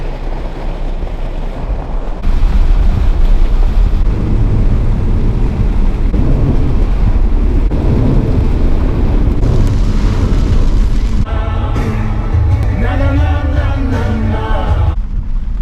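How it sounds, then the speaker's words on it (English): A thunderstorm in Indiana roars with heavy rain and wind, a loud, continuous broadband wash throughout, swelling into rumbling surges of thunder near the middle. "At the peak of that storm, with the rain coming down and the lightning and the wind and stuff"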